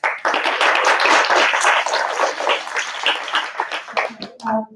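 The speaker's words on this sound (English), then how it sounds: "Let us give her a warm round of applause." Audience at a graduation project seminar breaks into dense, steady applause that fades off near the end, with a voice faintly audible beneath.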